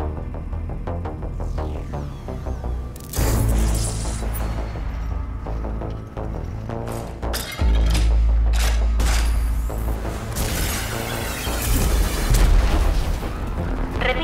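Rage 2 training simulation gunfire: heavy booming shots and throbbing blasts in dense volleys, loud and close over game music and effects, with a spoken voice faintly underneath.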